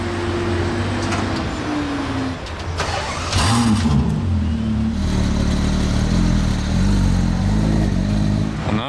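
Ferrari cars, including an 812, an SF and a Purosangue, drive in a convoy in Monaco during the Grand Prix. Loud engines rumble and rev close by, with shifting pitch as the cars accelerate.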